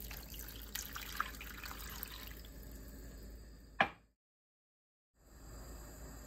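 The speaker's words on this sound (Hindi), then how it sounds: "1 कप पानी डालेंगे।" Water from a cup poured into a cooking pot holding 1 kg of chicken, cut potatoes and chana dal, a brief trickling splash alone, with a sharp clatter near the end before the sound cuts to silence.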